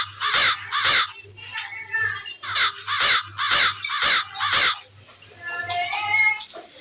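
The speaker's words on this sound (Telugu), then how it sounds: "కాకి ఎందుకే అలా కావు కావమంటూ అరుస్తున్నావు" A crow caws loudly and close, a run of about seven harsh calls in quick rhythmic succession, trailing off into softer background sounds.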